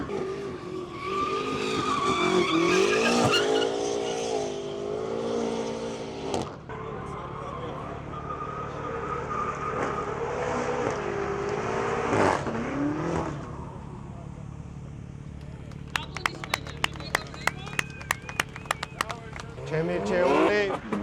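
A BMW drifts at a BMW Fest enthusiasts' gathering, its tires squealing and skidding in long wavering howls over rising and falling engine revs, loud and close, with sharp clicks near the end.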